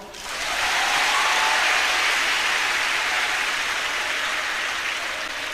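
Audience applause at a religious lecture: steady, dense clapping from a crowd that swells in quickly and holds loud and continuous for several seconds before easing slightly.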